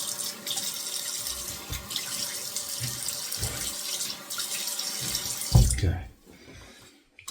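Water runs steadily from a bathroom tap, splashing as hands wet a face before a shave; the flow is loud and continuous, someone speaks briefly, then the tap shuts off abruptly near the end.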